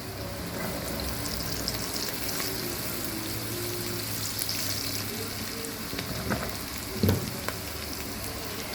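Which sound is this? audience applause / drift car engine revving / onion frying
onion frying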